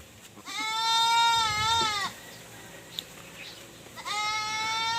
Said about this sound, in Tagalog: Nasa bukid yung mga kambing natin.